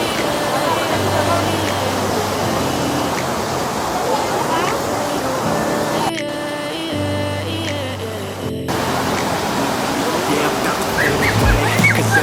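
Seetharkundu waterfall at Kollengode in Palakkad rushes with a constant broad roar, partly overlaid by music and voices.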